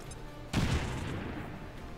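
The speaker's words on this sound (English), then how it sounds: "I might as well use a grenade here." A grenade blast in the video game XCOM 2: one sudden explosion with a heavy low-end thump, trailing off into a sustained rumbling decay, with no voices over it.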